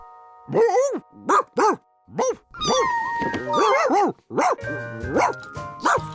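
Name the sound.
dog barking and whimpering in Curious George cartoon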